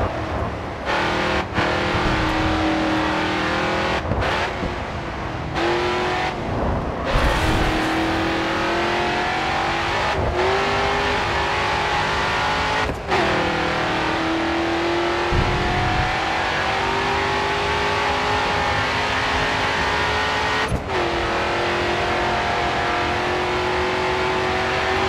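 Race car engine in the video game GRID 2, revving hard and loud with repeated climbs in pitch broken by sharp gear-shift drops, sustained with no speech.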